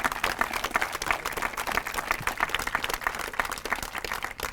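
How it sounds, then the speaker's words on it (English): A community audience in Louisville applauds a girls' school effort, dense steady clapping from many hands filling the room, continuous and fairly loud throughout with no one speaking over it. "I think that deserves a round of applause."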